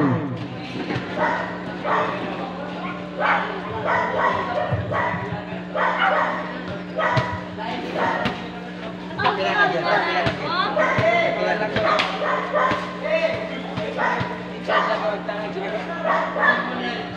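A dog barks and yips repeatedly amid a noisy indoor crowd at a basketball game, with a commentator talking over the din.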